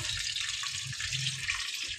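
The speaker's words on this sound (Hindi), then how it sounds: "थोड़ा पानी रह गया था कुकर में तो आवाज़ ऐसी हो रही है" Steady, dense hissing sizzle of leftover water spitting in hot oil inside a pressure cooker, close and continuous with a faint low rumble underneath.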